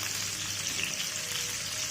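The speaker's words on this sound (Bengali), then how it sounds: "এটা যতক্ষণ ভাজা হতে থাকুক" Onions and chicken frying together in a pan make a constant, even sizzle with no pauses, moderately loud and heard alone.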